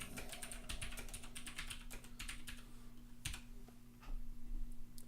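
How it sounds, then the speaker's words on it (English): Someone types steadily on a computer keyboard in a word processor, a quiet stream of rapid key clicks with brief pauses and a low steady hum underneath. "start typing"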